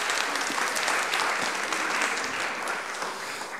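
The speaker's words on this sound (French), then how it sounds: "Je pense qu'on peut les applaudir bien fort." An audience at a round-table event on invisible disabilities in Bordeaux applauds the personal testimonies just shared, a dense, steady wash of clapping that holds at an even level throughout and tapers slightly near the end.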